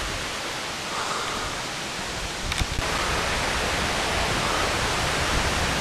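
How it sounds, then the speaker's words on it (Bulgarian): A steady, dense roar of the Slivodolsko padalo waterfall fills the air without a break, broad and constant, with a brief rustle partway through. "Последни метри до върха и вече водопада се чува."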